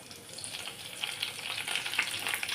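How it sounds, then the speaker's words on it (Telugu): Mustard seeds, cumin and curry leaves temper in hot oil in a kadai, giving a close, continuous bright sizzle with small crackles and pops throughout. "కడాయి పెట్టి అందులో ఆయిల్ వేసి ఆయిల్ హీట్ అయినాక ఆవాలు, 1/2 టీ స్పూన్ ఆవాలు, 1/2 టీ స్పూన్ జీలకర్ర, కరివేపాకు"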